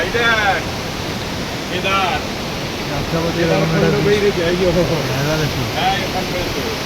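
Rushing waterfall roars steadily as broadband noise, with people talking and a voice calling out over the continuous flow.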